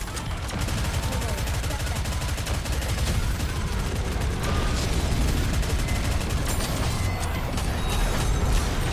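Dense, continuous gunfire in the video game Nikke, rapid overlapping shots and mechanical clatter running loud throughout with no pauses.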